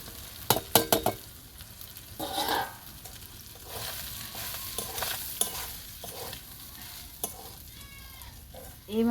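Chicken kachori filling with crushed chana dal being stirred and fried in a pan: irregular scraping strokes and clinks of a spoon against metal over a steady sizzle, close and fairly loud.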